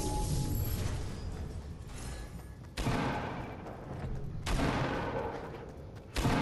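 Shotgun blasts in a multiplayer shooter, with three sharp, loud broadband bursts at irregular intervals, each leaving a dense rumbling tail over a continuous noisy game background.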